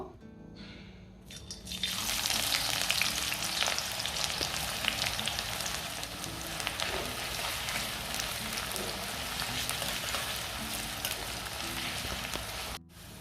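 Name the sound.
onions frying in mustard oil in a kadai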